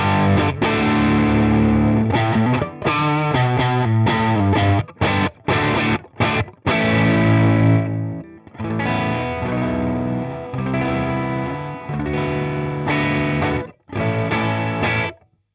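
Heavily distorted electric guitar in a JCM 800-style crunch through a 150-watt Celestion Redback speaker, loud sustained chords with a few sharp choppy stabs and pauses, played alone.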